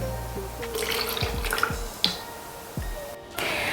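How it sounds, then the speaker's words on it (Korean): Homemade makgeolli strains through a fine sieve into a bottle, giving scattered wet drips and small plops over a faint liquid trickle, close and quiet with no talking. "고운 체에다 한번 걸러서 병에다 담아주도록 하겠습니다"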